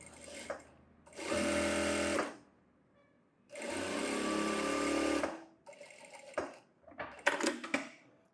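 A sewing machine stitches a saree blouse in two sustained loud runs of about a second and a half each, separated by quiet pauses, followed by shorter stop-start bursts and small clicks near the end.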